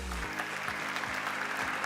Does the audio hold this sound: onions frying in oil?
no